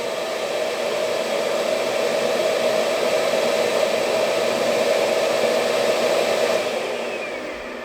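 A vacuum cleaner sucking up balsa wood dust runs with a steady whooshing roar, loud and close, and winds down slightly at the end.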